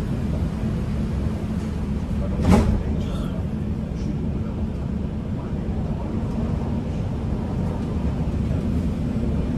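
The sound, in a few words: Dubai Metro train doors closing and departing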